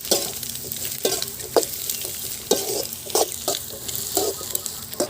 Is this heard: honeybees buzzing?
no